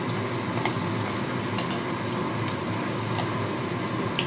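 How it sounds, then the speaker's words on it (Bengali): Egg and potato pakoras fry in hot oil, a steady close sizzle with faint stirring and utensil clicks throughout, no voices. "এইভাবে লালচে লালচে করে ভেজে তুলে নিতে হবে।"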